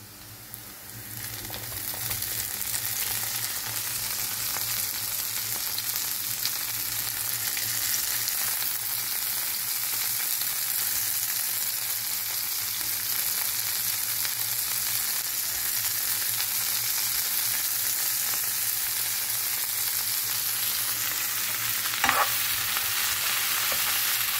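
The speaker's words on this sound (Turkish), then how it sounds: "Hemen biberlerimizi atıyoruz." Sliced peppers and onions frying in a pan for menemen give a steady, close, broadband sizzle with a few faint stirring clicks. The sizzle holds throughout, and no one speaks.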